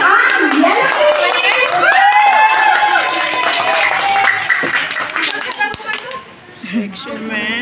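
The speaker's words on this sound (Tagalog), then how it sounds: "Bigyan natin ng palakpak ang Yellow Team!" Crowd clapping and loud cheering for the Yellow Team at a school sports fest, rhythmic hand claps under excited shouting and children's voices, close and energetic before thinning out.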